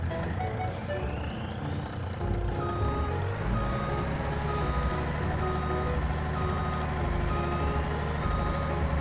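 Truck reversing beeps from Farming Simulator, steady repeated electronic tones over a continuous loud engine rumble, with a passing whine and no talking.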